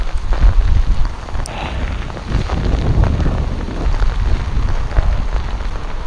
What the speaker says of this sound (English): like it's just too much rain